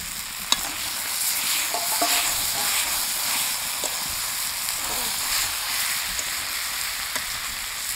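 Eggplant joins potatoes frying in a pan, producing a constant crackling sizzle with scattered light clicks and scrapes of stirring.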